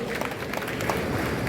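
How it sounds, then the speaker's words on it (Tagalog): Audience applause at a tribute concert, a dense continuous patter of many hands clapping in a hall, fairly loud and steady throughout. "Masigabong palakpak para sa ating"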